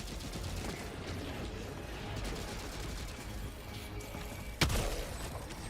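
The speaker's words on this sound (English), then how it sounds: "I'm getting shot by a flyer and a mortar" Video game gunfire in Starfield from an attacking flyer and mortar: a busy, muffled rattle of rapid shots runs throughout, with one sharp, louder blast near the end.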